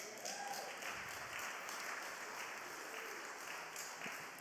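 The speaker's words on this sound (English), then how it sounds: "I didn't get as many claps on that one, Sister Crystal" Sustained applause from a church congregation after a line in a sermon, steady broadband clapping filling the whole stretch at moderate level, with no one speaking over it.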